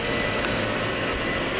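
A Daewoo Puma 300LC CNC turning center spindle spins at 1,000 RPM, giving a constant, close, whooshing mechanical hum with no rhythm or breaks and no talking over it.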